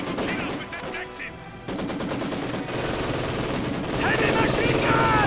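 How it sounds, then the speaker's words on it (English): MG42 and Maxim machine guns fire in a Company of Heroes 2 battle, rapid rattling bursts overlapping with distant shots and explosions, loud and continuous, with a commentator talking over the gunfire. "MG42 suppressed here by the Maxim."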